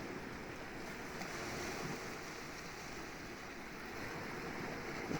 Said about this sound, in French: Continuez à écouter le son de la mer, juste que votre cerveau se relâche en écoutant le son de la mer.